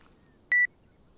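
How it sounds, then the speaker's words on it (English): One short, clean electronic beep of feedback from VoiceAttack voice command software, loud against near silence, used while issuing squad commands in Arma 3. "That's the beep."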